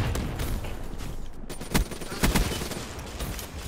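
Bursts of PPSh submachine gun fire in Call of Duty Black Ops 3, a few sharp irregular shots over steady game ambience, moderately loud and close, with no talking.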